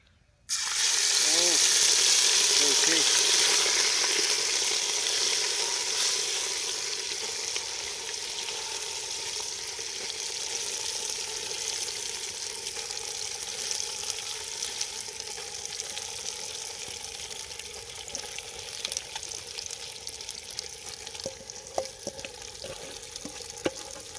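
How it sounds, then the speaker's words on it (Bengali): Marinated duck meat goes into a hot clay pot with a sudden loud sizzle that settles into steady frying hiss, fading slightly over time, with occasional stirring clinks and no clear talk. "এবার আমরা হাঁসের মাংসটা দিয়ে দেবো দেখো বন্ধুরা ম্যারিনেট করা মাংসের কত সুন্দর কালার এসেছে মাটির হাঁড়ি তো আমরা অল্প অল্প করে দেবো"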